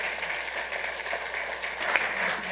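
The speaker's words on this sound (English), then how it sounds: "let's give them another round of applause" Applause from the audience at a Santa Ana city council meeting, a fairly quiet, steady patter of clapping across the room with no voices on top.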